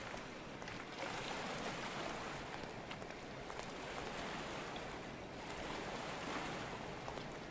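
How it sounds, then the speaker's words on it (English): Ocean waves in the Stormworks video game roll and surge continuously, a steady broadband wash of surf and wind that stays loud throughout with gentle swells and no voices. "what the heck are these waves? These waves are freaking wonders."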